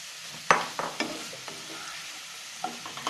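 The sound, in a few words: drumstick added and stirred into sizzling masala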